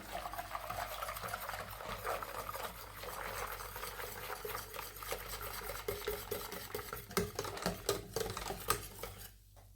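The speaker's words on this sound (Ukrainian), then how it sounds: "Все помішуємо і варимо." Continuous scraping and stirring of coconut custard cream cooking in a pot, steady near rhythm with occasional spoon knocks and clinks toward the end, no talk.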